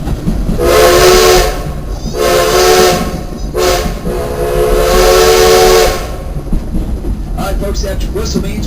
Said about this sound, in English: That whistle means we're coming up to Sweet Mary's Tunnel.